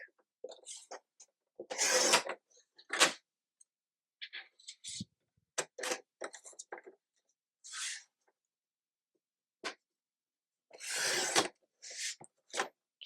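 Watercolor card paper is chopped in half at the six-inch mark on a paper trimmer, heard as close, separate sharp swishing cuts and clicks with silent gaps between them.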